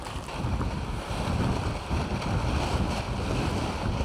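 Strong storm wind roars and buffets around a one-person X-Dome tent pitched on a wild camp in high winds, a loud continuous rumbling gust with heavy microphone buffeting and no speech.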